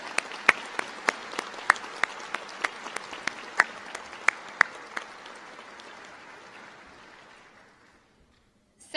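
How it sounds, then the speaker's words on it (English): Applause at a 2022 winter university commencement, a broad steady clapping from a large audience with a few sharp individual claps standing out, sustained for about seven seconds before fading to silence. "Please help me join in a round of applause."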